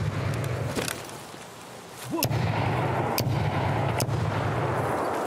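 Shotgun blasts firing buckshot in the shooter game Escape from Tarkov, several sharp booming shots spaced about a second apart over a steady low background hum, with no talking.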